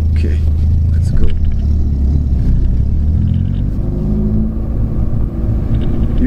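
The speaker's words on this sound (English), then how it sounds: "You can hear the sound of Brembo braking pads slowly adjusting to the new disc." A Peugeot 206 rolling slowly with fresh Brembo brake pads bedding in on new discs, a loud low rumble of the car and road throughout with a faint rising hum, no distinct squeal standing out.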